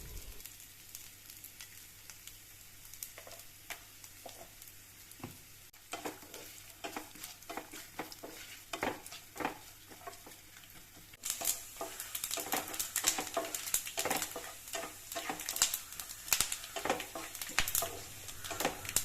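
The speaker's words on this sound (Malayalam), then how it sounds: "ഒരു പാനിലേക്ക് നെയ്യ് ഒഴിച്ച് നമുക്ക് അതിനകത്ത് തേങ്ങാക്കൊത്ത് വറുത്തെടുക്കണം കേട്ടോ" Coconut pieces frying in ghee in a pan: a steady soft sizzle broken by repeated scraping stirs of a spoon against the pan, growing louder and busier partway through.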